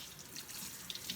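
Warm water running from a tap onto a towel, a steady, soft hiss of flowing water with a few faint splashes across the whole brief moment.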